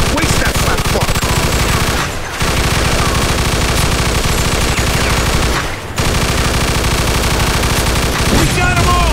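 Relentless machine gun fire in Mafia II during a shootout at a building window, loud sustained bursts broken by two short pauses, close and dense, with voices partly buried under the shooting.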